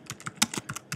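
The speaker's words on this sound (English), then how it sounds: "So I'll continue typing." Fingers tap quickly on a Mac computer keyboard, producing a close, crisp run of about a dozen uneven keystrokes with small pauses, no voices.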